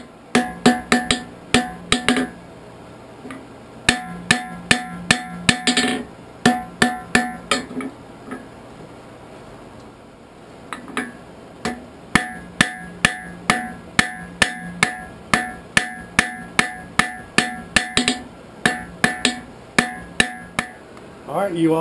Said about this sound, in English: Now we have to scarf both ends of it so that we can forge weld them together.